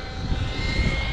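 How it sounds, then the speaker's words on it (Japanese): Airplanes passing overhead near Sone, a steady broad engine roar and whine that fills the whole stretch at even loudness, no voices. "飛行機飛びまくってるから飛行機もすごいよね"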